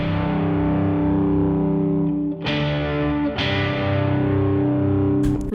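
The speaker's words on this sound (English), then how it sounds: "Next up, we add this electric guitar, which is an Amplitude 5 preset." Heavily driven electric guitar from an Amplitude 5 preset in a sad pop track, sustained distorted chords ringing loud and dense, with two fresh strums partway through and another near the end.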